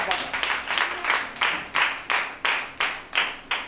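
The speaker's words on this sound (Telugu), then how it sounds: "చప్పట్లు కొట్టి ప్రభువుని" Church congregation at a Sunday service clapping in a steady rhythm, about ten sharp, evenly spaced claps close by, with no talking over them.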